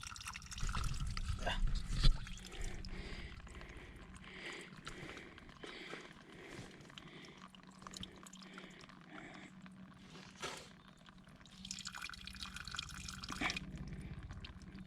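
Cold spring water trickles and drips into water bottles on a Smoky Mountains hike, a faint uneven splashing with knocks and handling noises, close by and fairly quiet.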